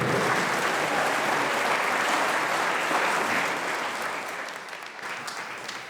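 Audience at a memorial celebration of a community organization's cofounder gives a sustained round of applause, dense and steady clapping that gradually thins out toward the end.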